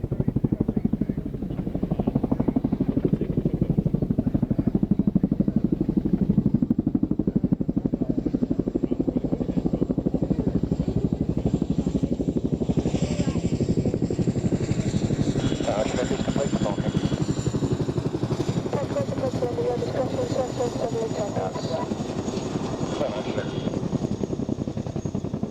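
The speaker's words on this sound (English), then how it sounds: "that was the Chinook" A Chinook helicopter flying a display at the Waddington airshow, its heavy rotor drone loud and continuous throughout, with a public-address commentator talking over it.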